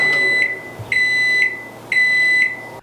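Microwave oven beeping three times in a steady rhythm, each tone a clear, loud electronic beep of about half a second with short gaps between, heard alone with no talk.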